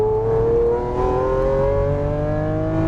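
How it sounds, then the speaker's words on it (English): A Lamborghini Aventador LP700-4 accelerates hard on a race track, its loud engine note climbing steadily in pitch as it pulls through the gear, close and alone with no talking. "Now you can accelerate hard."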